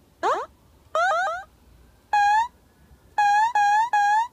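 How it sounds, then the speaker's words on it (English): Synthesized alarm-like sound effects generated in rFX Gen: a series of short electronic tones with rising, warbling pitch, heard alone in separate bursts with brief silences between them. "That's an alarm."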